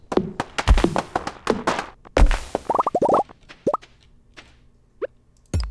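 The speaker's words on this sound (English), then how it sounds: "Bam! Break the rock." Pickaxe strikes breaking a rock in the video game Stardew Valley: a series of sharp, close thunks and plops, some quick clusters, with short bright tonal pops between hits.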